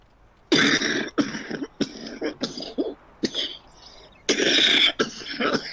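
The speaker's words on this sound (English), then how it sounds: "Don't like the sound of that cough." A person on a farm coughs in a series of harsh, chesty bursts, near and loud. One or two isolated coughs come first, then a longer cluster of rough coughs with throat clearing between them. No speech is heard.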